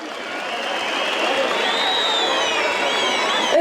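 Large outdoor crowd at a 2009 peace rally in Diyarbakır applauding loudly and continuously, a dense wash of clapping with whistles and cheers rising over it.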